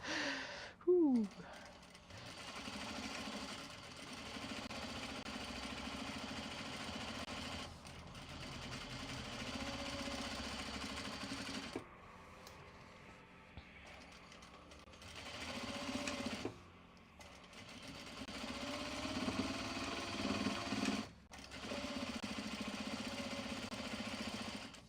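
A sewing machine stitches a bag of Japanese fabric, running in a steady mechanical hum over several passes with short stops and restarts, quiet and close, with occasional breathy sounds from the person sewing.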